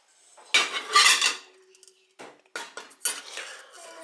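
Cooking pots, including a very large one, clatter and scrape during rinsing and handling, with sharp metallic knocks in irregular bursts separated by short pauses, close and moderately loud, with no talking.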